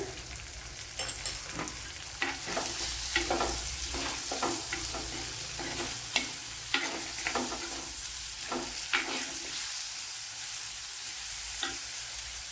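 Sliced onions with salt sautéing in a pan sizzle steadily, with repeated scraping stir strokes from a utensil punctuating the hiss at close range.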